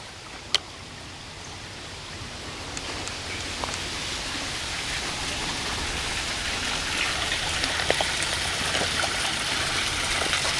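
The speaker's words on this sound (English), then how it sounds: "I hear water." Water gushes out of a small drain tile on the ground beside a cemetery road, a steady close hissing splash that grows slightly stronger over time, with no talk.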